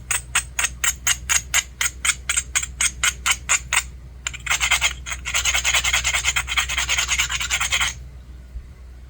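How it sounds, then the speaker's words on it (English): Texas Edwards chert is beveled along its edge during flint knapping: a fast run of about sixteen rhythmic abrasive strokes, then a denser continuous scraping burst, close and crisp. "Now we'll bevel this edge and take flakes back this way."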